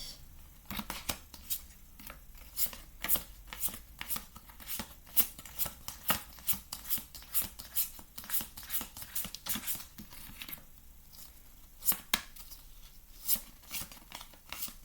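A deck of oracle cards is shuffled and riffled through, producing dense, rapid flicks and papery slaps in irregular bursts, close and fairly quiet, with no talking.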